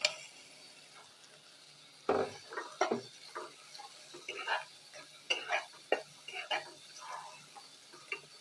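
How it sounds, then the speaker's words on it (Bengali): Kalibaus fish roe fries in a pan and is stirred for a traditional Bangladeshi kochu fry. A spatula scrapes and clicks in uneven bursts over a faint, close sizzle. "কালীবাউস মাছের ডিমগুলো দিয়ে দিচ্ছি।"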